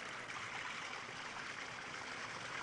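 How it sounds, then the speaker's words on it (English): Water trickles out of small holes in the bottom of a brass spherical kitchen ladle, making a small shower: a steady, soft, continuous patter and hiss with no talking. "then the water trickles out the little holes, making a small shower"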